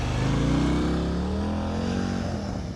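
During slow-speed riding practice in New Jersey, a nearby motorcycle engine rises briefly in pitch under light throttle and then settles back into a low, steady rumble.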